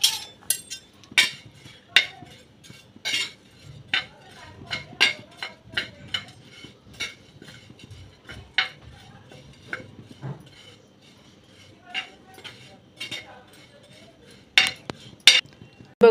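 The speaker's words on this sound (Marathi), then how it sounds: "मी थोडेसे तव्यामध्ये ड्राय रोस्ट करून घेणार आहे" Oats dry-roasted on a griddle over a low flame, with a spatula scraping and clinking against the pan in quick irregular strokes, close and fairly quiet with brief sharp taps throughout.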